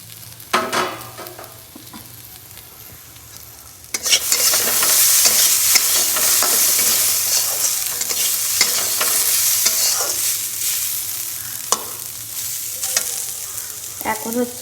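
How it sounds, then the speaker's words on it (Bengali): Beetroot frying in a pan, a quiet stirring start giving way after about four seconds to a loud, steady sizzle with occasional scraping clicks, close up and without speech. "এখন হচ্ছে বিট ভাজা বসিয়েছি, বিট ভাজা হচ্ছে"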